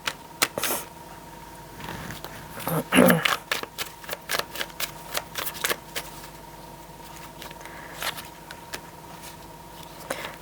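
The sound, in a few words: handling and drawing tarot cards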